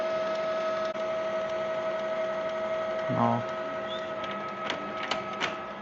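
A Canon PIXMA G2020 ink tank printer runs an ink flush, giving a steady mechanical whir with a constant tone, a short motor grind partway through and several clicks. A voice speaks one word briefly.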